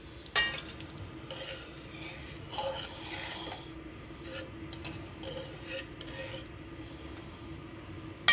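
Seafood chowder with garlic, onion and black pepper is stirred in a pot, giving faint, soft rubbing and scraping strokes with a couple of light knocks against the pot.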